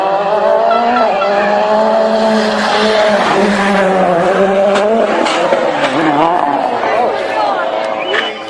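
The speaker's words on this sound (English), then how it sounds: "It just drifts and bounces from wall to wall." Rally car drifting through a stage with loud wailing tire squeal and an engine revving near and loud, sliding continuously with a few sharp knocks suggesting contact with walls, while a commentator talks over it.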